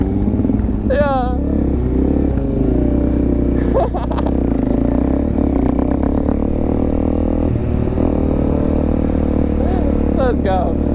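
A Yamaha R6 sport bike engine runs steadily with a low drone and a few revving swells, heard outdoors alongside other vehicles and voices talking throughout.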